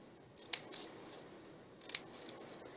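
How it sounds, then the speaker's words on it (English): Scissors snip through scrap paper being cut into feathers: two crisp, sharp snips about a second and a half apart, close and quiet, with faint softer cuts in between. "we are snipping and snipping"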